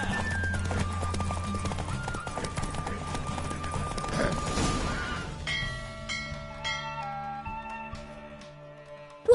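Rapid hoofbeats of a galloping horse in The Witcher 3 race run steadily throughout, with a steady musical score playing over them.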